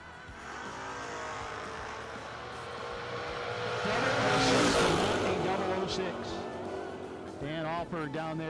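Drag racing cars at a footbrake event rev and launch down the strip, a loud roaring engine sweep that swells and peaks mid-pass before fading, with a commentator talking over the noise.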